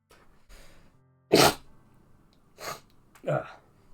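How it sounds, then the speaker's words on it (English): A sharp, close sneeze bursts out, followed by a couple of softer sniffs and breaths in an otherwise quiet room. "Sorry, I just had to sneeze then."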